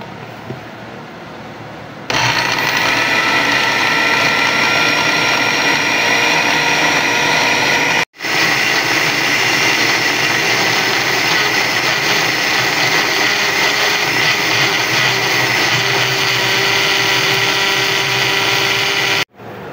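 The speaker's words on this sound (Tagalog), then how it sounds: "Blend natin." A kitchen blender whirs loudly and steadily as it purees onion with lemon juice, starting abruptly, cutting out for an instant midway, then running on at full power until it stops.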